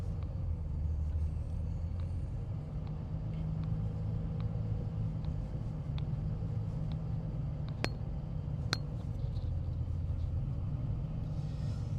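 A truck cruises along a main road near the Dames Point Bridge on a Sunday drive, heard from inside the cab as a steady low engine and road rumble that never lets up, with a couple of faint clicks.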